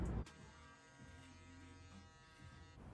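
Gamma+ Boosted electric shaver running at 11,000 RPM, a steady, quiet high-pitched motor buzz after a brief switch-on thump, ending with a click.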